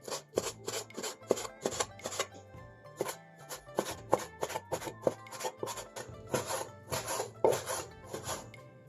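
A knife cuts lean pork into willow-leaf slices with pointed ends on a cutting board: a close, quiet run of about twenty crisp strokes in an uneven but steady rhythm, with no talking.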